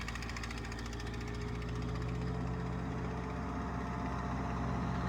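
A Ford 8N tractor engine plowing a small garden drones at a steady, continuous level, a close, rough running rumble with no talk over it.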